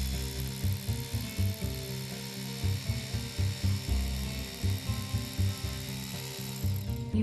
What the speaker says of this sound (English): use the hammer drill to drill 9/16 inch by 3 inch holes